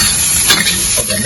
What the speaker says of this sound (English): We will need to do a very fast fry like just now, so that the bean sprout will not be soggy.